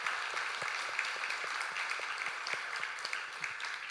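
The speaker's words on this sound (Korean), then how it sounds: "우리 박수로 축하하도록 하겠습니다." Church congregation applauding after a baptism ceremony during a Sunday worship service, a steady dense patter of many hands clapping at moderate distance throughout, with no talk over it.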